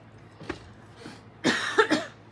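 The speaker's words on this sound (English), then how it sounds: "I apologize for this darn cough." A person coughs a few times up close, a faint throat sound first and then two harsher, louder coughs in quick succession.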